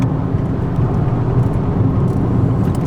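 An Abarth 595 hatchback drives along winding roads, its engine a steady, loud drone with road and wind rush, no voices over it.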